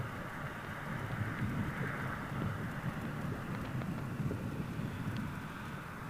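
Blustery early-morning wind at RAF Mildenhall buffets the microphone outdoors as a continuous, loud, broadband rush that stays steady throughout, with no speech.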